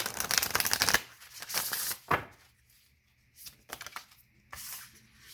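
Tarot cards are shuffled and drawn with a dense riffling burst, then several shorter flicks and slaps of cards handled close up, separated by quiet pauses.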